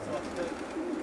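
Young racing pigeons arriving at a loft in the Nowe section, with soft cooing and bird calls over steady background noise for a second.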